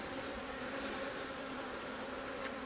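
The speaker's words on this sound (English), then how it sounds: "you see these bees are pretty active" Honey bees buzz steadily around an open vertical Flow Hive during a hive split, a dense, even drone close by with no talking over it.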